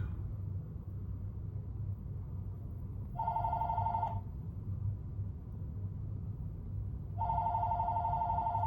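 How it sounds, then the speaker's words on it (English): A telephone rings indoors in two clear bursts, each about a second long, separated by a few seconds of quiet room hum. "just ignore that phone ringing."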